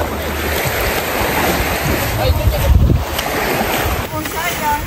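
Sea waves and strong wind at the shore, a steady loud rush with wind buffeting the microphone throughout, and faint voices in the background.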